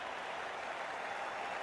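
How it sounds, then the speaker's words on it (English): Crowd applause in the Cricket 24 video game during an India versus Pakistan match: a steady, faint wash of clapping from a distant stadium crowd, continuous with no break. "Let's give him a round of applause."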